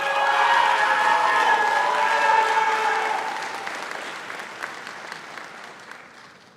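An audience at a medical school hooding ceremony applauds in a large hall, a dense wash of clapping that holds steady and then fades away over several seconds.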